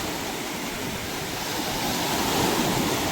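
Continuous broadband roar of surf washing onto a shore, steady and fairly loud, with no voices.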